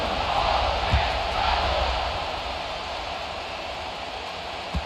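Stadium crowd at a college football game in the NCAA 26 video game, a steady broad roar of many voices holding loud throughout, with a couple of brief low thumps near the start and end.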